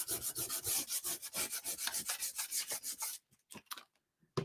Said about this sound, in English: So this is clogging up my sandpaper super fast.